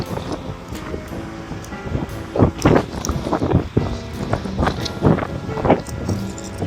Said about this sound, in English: Absolutely horrible wind.